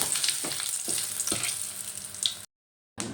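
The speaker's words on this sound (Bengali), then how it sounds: "এবার আমি ফোড়নটা ভালো করে ভেজে নেব" Whole spices, including cinnamon and cardamom, sizzle and crackle in hot mustard oil, with a few stirring scrapes, then a short moment of silence before the frying resumes.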